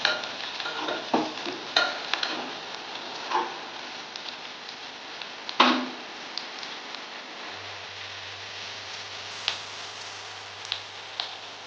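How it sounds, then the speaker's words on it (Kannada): Onions frying in a pan for upma give a faint, steady sizzle with scattered scraping clicks from stirring, while a low hum joins partway through. "ಫ್ರೈ ಆದಷ್ಟು ಚಲೋ ಈರುಳ್ಳಿ"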